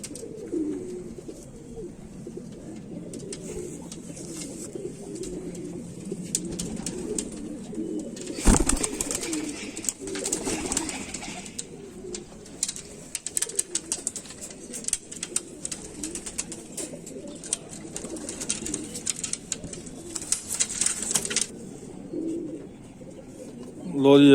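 Kamagar pigeons, white-faced with crests and open ears, coo softly and repeatedly in a loft, with a voice talking intermittently over the low, continuous cooing.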